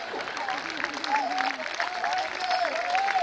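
Audience applause and crowd noise at a Hindi comedy poetry show, steady clapping throughout with a voice talking over it.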